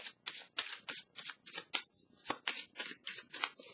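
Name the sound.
shuffling and drawing a card from a deck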